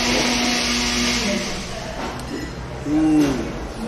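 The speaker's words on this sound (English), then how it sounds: "If the blender's a little loud," A kitchen blender whirs steadily and fairly loud, a broad continuous motor roar that holds for about four seconds with a slight surge near the end, with no talk over it.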